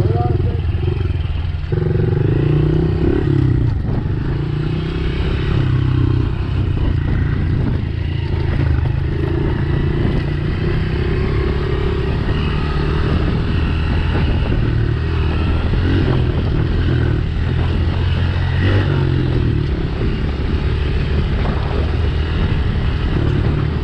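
Motorcycle riding through mountain desert terrain near Buckeye, Arizona, its engine droning steadily and loudly throughout with rough clatter and wind buffeting, while riders occasionally talk over the noise.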